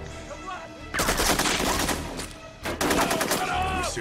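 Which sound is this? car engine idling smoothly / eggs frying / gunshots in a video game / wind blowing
gunshots in a video game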